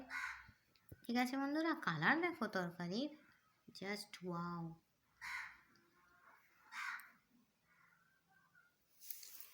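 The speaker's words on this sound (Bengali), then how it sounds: "এখন কাক ডাকছে, মোরগ ডাকছে।" Several harsh caws from a crow ring out at moderate distance between and after a woman's speech, spaced irregularly across the stretch.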